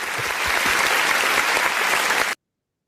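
Applause for Fares Apostat, a dense, steady burst of clapping held for about two seconds before cutting off abruptly into silence.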